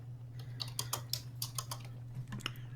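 Rapid, irregular keyboard typing at close range for an Excel sheet, clustered clicks over a steady low hum, with no talking.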